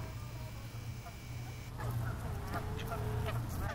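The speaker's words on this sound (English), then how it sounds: "there's a lot of geese today" A flock of over fifty geese at a duck pond in West Newton, Pennsylvania, honks in a few short calls over steady outdoor background noise.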